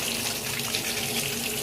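Tap water runs in a steady, continuous stream while afro hair is rinsed, the flow loud and close without a break.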